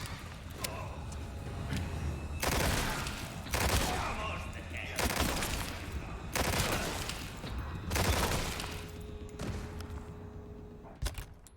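Gunfire in Resident Evil 4, with several loud, broad bursts of shots coming in waves, separated by quieter gaps, and a few sharp reports near the end.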